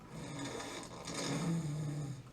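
A voice imitates snoring, a rough, buzzing rasp held for a couple of seconds, close and fairly loud with no other sound around it.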